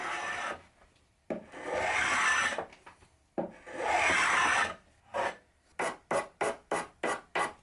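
A hand tool rasps across a wooden corner to cut a small chamfer: several long, loud scraping strokes, then a run of quick, short, rhythmic strokes at close range, with no talking.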